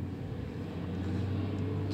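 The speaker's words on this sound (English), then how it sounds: "traffic in the town" Town traffic in Augusta rumbles at a moderate distance, a steady low vehicle drone with a passing car slightly swelling toward the end, no voices present.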